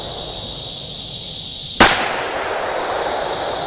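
A single handgun shot rings out sharply at close range over steady background hiss, with a brief decaying tail and no other shots following.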